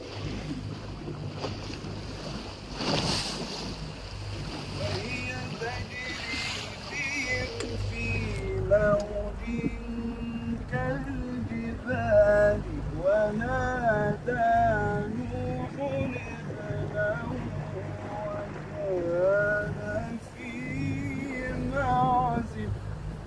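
A boat moves across open sea with wind buffeting and waves washing around the hull, while a voice recites in a melodic chant over the steady rumble through most of the stretch.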